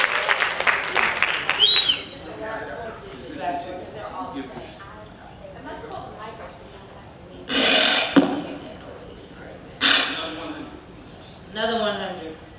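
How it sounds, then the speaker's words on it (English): Raffle audience at a university lecture event breaking into short bursts of clapping for a winner, several separate rounds spaced across the stretch, with a voice talking between and over them. "Oh, we have a winner. Let's clap for her."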